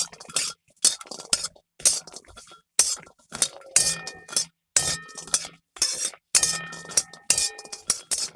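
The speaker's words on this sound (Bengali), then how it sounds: "তেলটা দিয়ে একটু ভালোভাবে নেড়ে বড়িটা একদম লাল লাল করে ভেজে নিতে হবে।" Metal spatula strokes scrape and clink against a pan as bori lentil dumplings fry in oil, in repeated rhythmic bursts with short pauses, close and fairly loud, with no talk.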